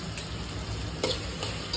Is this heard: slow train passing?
no